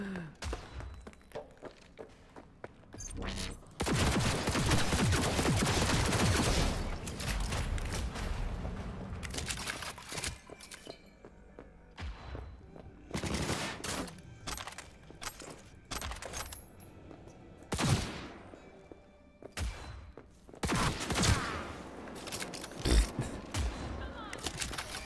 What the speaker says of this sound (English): why do those turrets do so much damage?